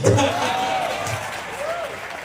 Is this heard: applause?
yes